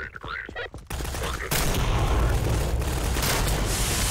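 Rocket launcher fire in Garry's Mod, a loud, dense rush of blasts and booms that swells after a quieter opening and holds steady to the end, with a voice briefly heard at the start.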